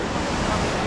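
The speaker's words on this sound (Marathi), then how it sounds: "आणि हा काळू वॉटरफॉल." Rushing water roars steadily at Kalu waterfall near Malshej Ghat during the rains, a dense, continuous broadband wash like heavy surf, close and fairly loud, with wind buffeting the microphone and no pauses.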